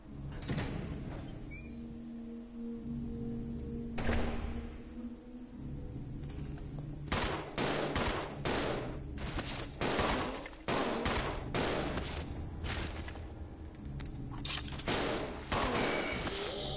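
Repeated gunfire in the Resident Evil 0 HD video game, sharp loud shots arriving singly and in quick bursts with short pauses between them, heard without talk.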